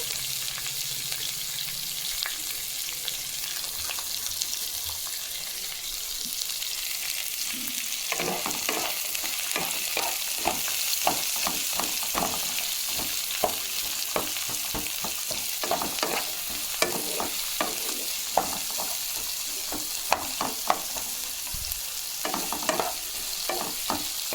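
Onions sizzling in hot oil in a pan, with a steady frying hiss that breaks into repeated scraping and clacking strokes as they are stirred, no voices present.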